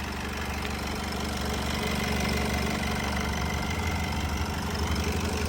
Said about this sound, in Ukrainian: Мотор працює чітко, рівненько, без нарікань